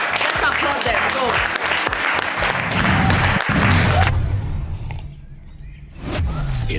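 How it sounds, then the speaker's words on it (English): Audience applause on a televised quiz show, a burst of clapping that swells and then thins out, fading near the end before a brief return. "All right, guys, let's applaud them."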